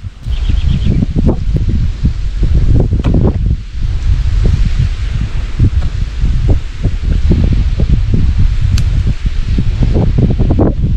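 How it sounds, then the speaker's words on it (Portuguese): Wind blows outdoors by a riverside fishing camp with a wood-fire grill, buffeting the microphone in loud, continuous gusts with rustling leaves and no talking. "Tá meio vento"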